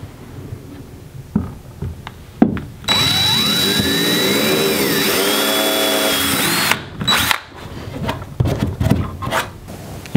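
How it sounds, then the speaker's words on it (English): Power drill boring holes into a Bonafide SS127 kayak hull with a 3/16 inch bit: one sustained whining burst of about four seconds, close and loud, framed by short knocks and handling noises. "use your 3/16 inch drill bit and drill the holes"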